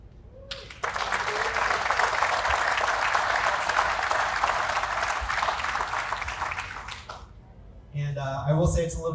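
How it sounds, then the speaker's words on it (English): Sustained applause for a high school's design build competition award, with a dense clapping crowd lasting several seconds before fading, then a voice speaking. "So we get to have a round of applause for all of our students"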